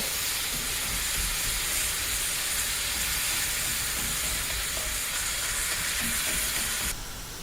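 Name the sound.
ground beef and onion sizzling while browning in a skillet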